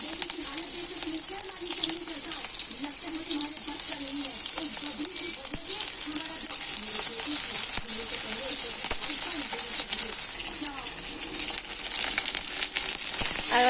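Chopped onions and chillies fry in hot mustard oil in a heated wok, giving a steady, close sizzle with a crackling hiss that runs unbroken throughout.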